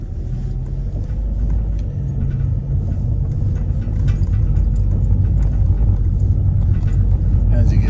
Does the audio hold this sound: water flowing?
no